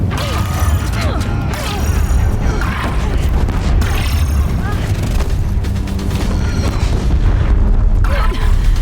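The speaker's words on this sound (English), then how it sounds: "If the Deathbringers keep firing, this bridge will go." Deathbringer machines in Horizon Zero Dawn firing at a bridge, loud continuous booming explosions and mechanical creaks with rumbling impacts throughout, dense and close.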